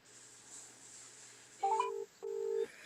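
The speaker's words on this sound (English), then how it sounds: "I'll just phone her now." A telephone being dialed gives two short, clear keypad tones in quick succession over a faint background hum.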